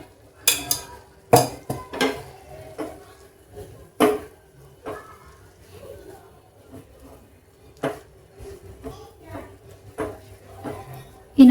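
A spoon works a thick peanut burfi mixture with ghee in a pan, producing irregular metallic scrapes and sharp clinks against the pan, spaced unevenly and close by.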